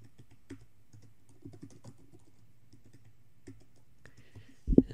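Scattered soft clicks of computer keyboard keys as a password is typed, quiet and close, followed by a brief louder thump at the end.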